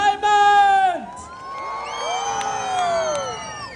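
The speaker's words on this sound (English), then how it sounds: "How about a huge round of applause for the team from Phony Fireworks and Jetpack Entertainment?" Crowd at a Chinese New Year fireworks show at Darling Harbour, Sydney, cheering and whooping with sustained yells and shouts, loud and close, with little distinct clapping.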